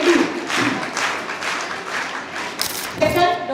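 An audience applauds at a school investiture ceremony, a dense wash of steady clapping that runs throughout at moderate loudness, with a voice coming through near the end.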